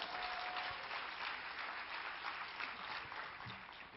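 An audience claps steadily at a talk, with even, continuous applause heard from a distance at low volume.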